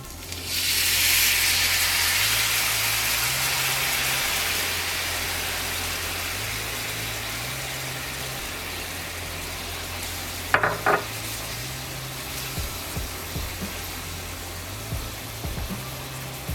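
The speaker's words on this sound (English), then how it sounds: "We're gonna bring this up to a simmer, let that sauce get nice and thick" Mongolian beef sauce simmers over meat in a pan with a steady, broad sizzle and hiss that runs throughout, a few brief utensil clinks partway through, no talking.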